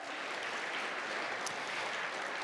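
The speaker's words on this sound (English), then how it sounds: "Let's have one more round of applause for everyone who participated this evening" Sustained applause from an audience at an evening Women's History Month celebration, a steady dense wash of clapping that stays even and moderately distant throughout, with no voices standing out.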